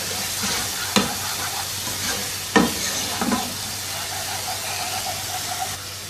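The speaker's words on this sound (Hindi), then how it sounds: "एक चाय का चम्मच लहसुन अदरक का पेस्ट, 2-3 मिनट इसको सौते करेंगे" Garlic ginger paste sautéing in a pan for mutton kofta curry, a steady low sizzle with a few sharp spoon knocks against the pan and faint stirring scrapes, close and without talk.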